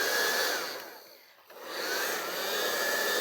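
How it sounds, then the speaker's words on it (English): A craft heat tool blows hot air with a steady loud whooshing hiss that dips and cuts out briefly in the middle, then surges back to full strength, with no talking. "I'm just going to bring my heat tool in"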